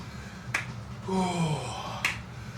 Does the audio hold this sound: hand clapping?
yes